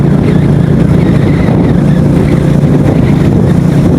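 A motorcycle ridden along a highway on a long road trip, with steady engine drone and heavy wind buffeting the microphone throughout, loud and unbroken.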